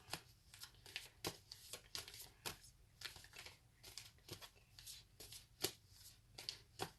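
Soft, quick riffling of playing cards being shuffled, repeated flicks in an irregular rhythm, close up and fairly quiet.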